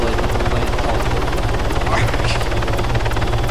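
Aircraft rotor blades in the Arma 3 video game keep up a loud, steady, rapid thumping drone right up close, with voices talking over it throughout.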